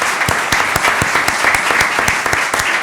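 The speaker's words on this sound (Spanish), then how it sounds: "Un aplauso para nuestra ponente." Steady applause from a crowd for a speaker, dense clapping that fills the whole moment without pause and stays fairly loud throughout.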